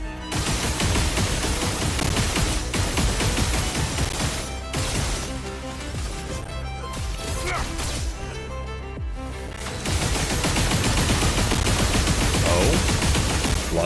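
Dense bursts of rapid gunfire crackle almost nonstop, with short lulls, loud and up close like a hectic firefight.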